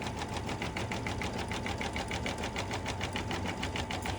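A sewing machine stitching a heart shape on a quilted mug rug backed with fusible woven interfacing, a steady rapid even whir of needle strokes running continuously without pause.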